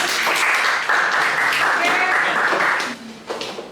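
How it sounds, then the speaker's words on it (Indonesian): A classroom of students applauds loudly and steadily for about three seconds, then the clapping fades out, with voices faintly mixed in. "Kita beri aplaus sekali lagi"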